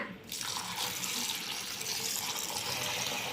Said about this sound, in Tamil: தண்ணி ஊற்றி சுத்தம் பண்ணிக்கலாம்